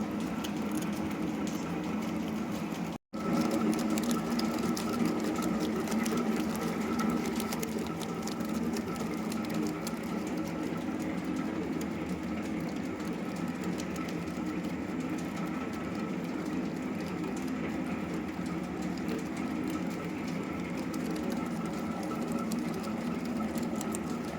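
Gongura leaves and red chillies being ground into chutney in an electric grinder, a steady, loud mechanical whir that runs continuously apart from one brief cutout near the start.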